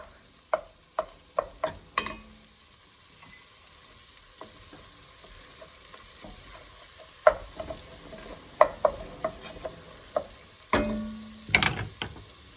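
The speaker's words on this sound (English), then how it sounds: "we're gonna add in our chopped onion and we're just gonna let that cook about 5 minutes or so until it's softened" Chopped onion softening over low heat in a pan, a quiet steady sizzle punctuated by sharp clicks and scrapes of a utensil stirring and tapping, with a few clustered knocks near the end.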